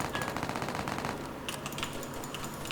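Rapid automatic gunfire from a Roblox zombie survival game set in a high school, a fast steady burst of shots for about two seconds followed by scattered sharper cracks, loud and continuous.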